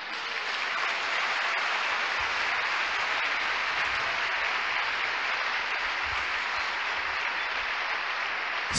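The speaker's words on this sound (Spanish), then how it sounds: "Le damos un aplauso." A church congregation at a Spanish-language service claps together in steady, dense applause that holds at an even level for several seconds without any speech.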